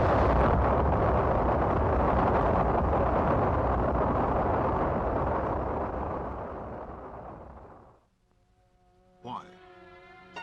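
A rocket launching an Earth satellite into orbit roars as a loud, broad, sustained rumble that fades away over several seconds, followed by quiet and a brief tonal sound near the end.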